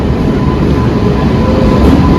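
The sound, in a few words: Channapatna passenger train arriving at platform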